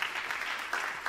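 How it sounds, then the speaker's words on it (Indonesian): A church congregation claps enthusiastically during a service, a dense, steady patter of many hands with small rises in intensity. "Sorak-sorai tepuk tangannya paling meriah"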